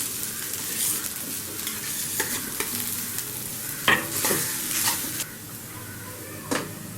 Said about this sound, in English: Now add in the mashed potatoes